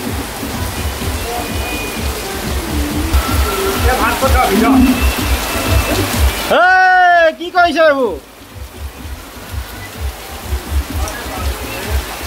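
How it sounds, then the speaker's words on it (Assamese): Heavy rain pours steadily outside a garage where a group gathers over pork curry at a Holi party, a dense hiss running under loud talk and a brief burst of noise. "বৰষুণ বেছিকেহে দিছে।"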